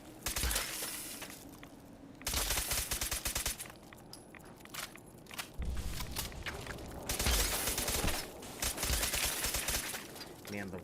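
Repeated bursts of automatic weapon fire in Fallout 4, heavy rattling volleys separated by brief pauses, loud and close, with a voice talking faintly in between.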